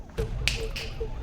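A single crisp finger snap in a tense confrontation scene, standing out sharply against a low, steady background rumble, with no talking over it.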